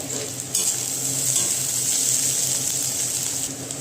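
Peeled nuts drop into a pan of frying bitter gourd korma with prawns, giving a steady close sizzle with light stirring and scraping throughout, with no talk.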